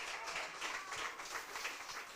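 An audience applauds at a talk event, a steady, dense patter of clapping hands that holds through the moment, fairly faint and even with no voices over it.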